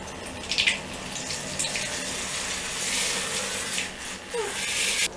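A StylePro brush cleaner spins a makeup brush in a bowl of water, a continuous close watery whirring and sloshing with a few louder splashy bursts.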